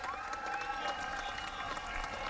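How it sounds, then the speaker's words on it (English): At a marathon race in the Perth Ironman Series, a crowd applauds and cheers the winner at the trophy presentation, a faint, distant clatter of clapping with music underneath. "Big round of applause."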